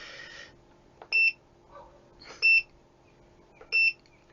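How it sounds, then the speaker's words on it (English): An Aixun T420D dual solder station gives three short, clear electronic beeps, evenly spaced about a second apart, against a quiet background with faint handling noises between them. "We can switch off the beep"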